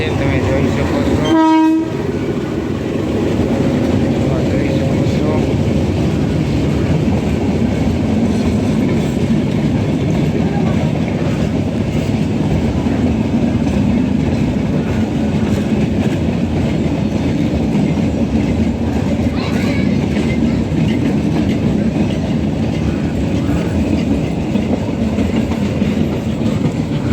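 Passenger train from Somnath pulling into Visavadar railway station, a short horn blast near the start, then a steady loud rumble and rolling clatter of the cars filling the rest.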